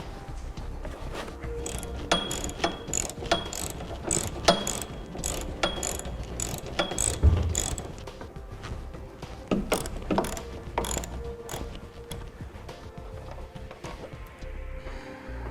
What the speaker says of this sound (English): we'll need to remove these 2 existing factory bolts and then remove our windshield bolt